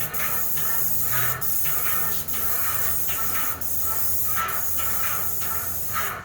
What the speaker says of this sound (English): I like to spray this one next.